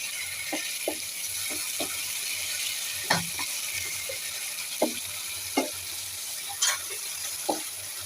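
A hilsa fish head is turned and stir-fried in spice masala in a pan, giving a continuous soft sizzle broken by repeated scraping and knocking strokes of the spatula at an irregular pace.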